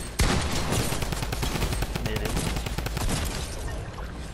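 Rapid video game gunfire from a Fortnite match, dense bursts of shots running continuously at close range with a faint voice underneath.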